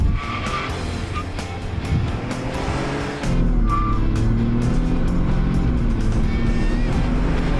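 A 2020 Ford F-150 pickup's roaring engine revs hard with tires spinning and squealing, then the note drops and a deeper, louder acceleration takes over, close by.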